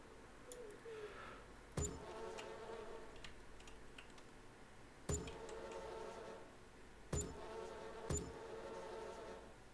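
Bees buzz around small beehives in the farming game Farming Simulator 22, a steady close drone with a few sharp clicks at regular intervals and no talking.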